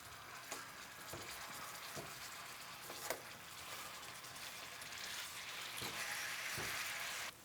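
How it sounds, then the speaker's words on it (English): About 1.5 pounds of ground beef browns in a little oil in a pan, giving a steady, quiet sizzle with a few soft scraping stirs and no talk. "First thing you want to do is start browning your meat."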